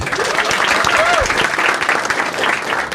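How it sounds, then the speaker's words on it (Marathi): A stand-up comedy audience in a Marathi crowd-work show breaks into a burst of clapping on request, loud and close, with a few voices and whoops over the applause. "छान, एकदा टाळ्या वाजवायच्या."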